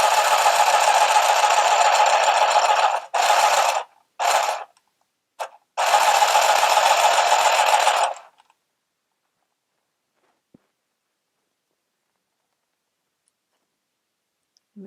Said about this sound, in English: you can also use the handheld sewing machine holding it vertically to your body